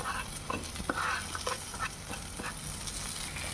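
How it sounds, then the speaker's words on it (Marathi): Tomato and turmeric sautéing in a pan, with a steady soft sizzle and occasional spoon scrapes and stirs, heard close and without talk. "हे सर्व छान परतून घेऊया."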